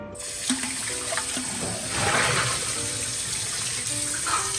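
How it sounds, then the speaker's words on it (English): Warm tap water runs steadily into a Staub La Cocotte cast iron pot during washing, a continuous close gush and splash with slight shifts in tone as the flow hits the pot. "let's use some warm water to wash this pot again"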